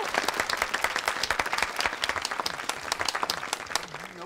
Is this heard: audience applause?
yes